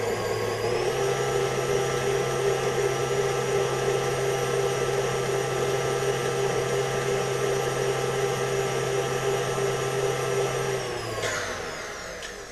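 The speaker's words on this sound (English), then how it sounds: "I want to add in to my mixer, and then you want to stir that" An electric mixer whirring steadily while combining two eggs for peanut butter fudge brownie batter, a loud continuous motor drone that cuts off near the end, with no voices.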